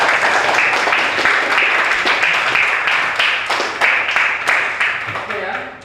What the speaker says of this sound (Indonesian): jadi saya tepuk tangan lagi